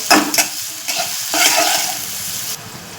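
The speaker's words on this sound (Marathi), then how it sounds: "हिरवी मिरची आणि परतून घेऊया मंदाच्यावर छान असं परतून घ्यायचं" Green chillies and garlic sizzle and crackle as they are sautéed over low heat in a pan for a drumstick-leaf dish, with close, loud scraping stirs coming in irregular bursts.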